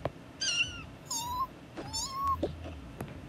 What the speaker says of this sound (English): This is the kitty and her little baby kitten.